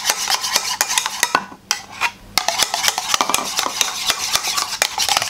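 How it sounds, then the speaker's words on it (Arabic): A large spoon stirs broken homemade mayonnaise in a bowl, producing rapid, rhythmic scraping and clinking strokes, close and steady, with a brief pause midway. "غادي ناخدو باش نخدم معلقة كبيرة ونبدا نزيد هنا"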